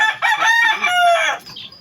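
A single loud, close crow from a talisay gamefowl rooster, rising and then trailing off, heard on its own.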